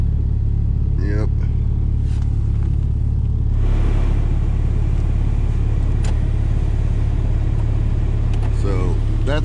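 A 1998 Jeep Cherokee XJ engine idles steadily after an extreme cold start at -16F, a constant low rumble running throughout with a slight swell partway through, while people talk nearby.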